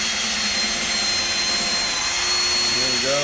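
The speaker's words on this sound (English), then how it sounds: "All right, pre-drill the hole." A loud, continuous whine of a power drill pre-drilling a hole, running steadily up close, its pitch shifting slightly near the end.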